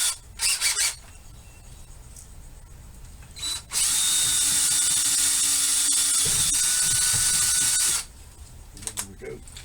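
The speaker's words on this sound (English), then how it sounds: "I just went ahead and pre-drilled it with a little bit smaller bit." Small drill bit boring a pin hole on a trolling motor, a high whining buzz lasting about four seconds between softer handling clatter and brief talk.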